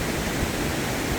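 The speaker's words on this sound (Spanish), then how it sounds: "Esta es una cascada bien chiquitita" A small waterfall hidden among trees and bushes on a trail near Pucón, heard as a steady, even rush of falling water, close and continuous with no voices.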